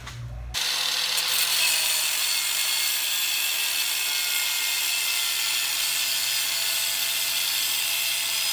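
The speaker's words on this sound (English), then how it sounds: "Cutoff wheel." An angle grinder with a cutoff wheel spins up and bites into a steel all-thread rod, giving a loud, continuous, harsh grinding screech that holds steady for several seconds.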